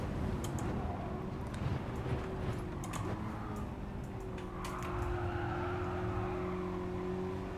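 A Mazda Roadster NR-A '22 in Gran Turismo 7 drives Suzuka, its engine drone steady throughout while tires squeal and slide in short bursts, loud and continuous with no talk.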